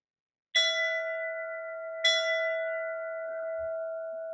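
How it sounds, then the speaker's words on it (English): A bell rings twice, a sharp bright strike followed about a second and a half later by a second, each leaving a long clear ringing tone that hangs in a quiet room. "So here's 2 bells"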